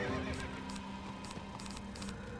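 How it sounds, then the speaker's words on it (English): Horse sounds in the Wizard101 video game: a whinny and hoof clip-clops, faint and distant, mixed into a steady wash of game ambience and music. "Vague proximity horse noises."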